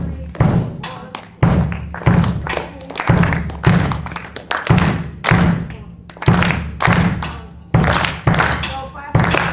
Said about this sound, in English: Everybody clap this. I told you to clap the bass in.